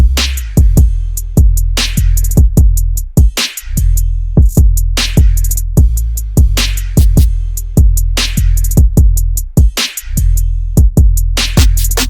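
Phonk beat built from the Sekizo 2K25 drum kit with a deep 808 bass: punchy kicks and bright hi-hats and percussion hits in a steady looping rhythm, loud and up front, with no talk.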